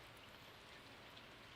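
Steady green rain falls in Stardew Valley, a dense, even patter with no breaks or talk across the whole stretch.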